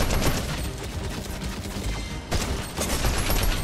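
Gunfire in Fortnite during a competitive match, a dense, loud, continuous rattle of rapid shots with a brief dip midway.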